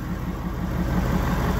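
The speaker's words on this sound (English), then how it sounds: "Now, walk over here, you can definitely hear the engine." A Ford F250 pickup's diesel engine idles close by, a steady low rumble with an even, slightly pulsing rhythm and no talking over it.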